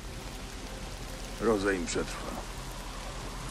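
Steady rain patters throughout a scene in the video game Days Gone, a continuous hiss of falling water under a brief spoken line in the middle.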